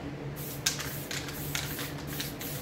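A spray can hissing onto a resin pour painting in a few short bursts over a low steady background hum, fairly quiet and with no talk.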